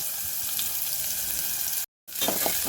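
Finely chopped onions frying in oil with mustard seeds and cumin, a steady close sizzle with brief stirring scrapes, broken by a short dropout of near silence before the crackle returns.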